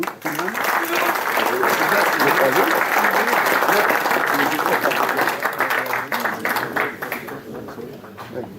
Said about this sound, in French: Alors je pense qu'on peut les applaudir.